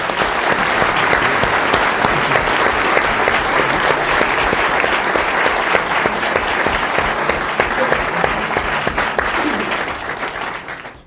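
Loud, sustained applause from an audience at an ethics panel event, thanking the panelists with dense, even clapping that holds steady before tapering off at the very end.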